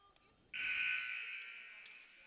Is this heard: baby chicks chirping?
no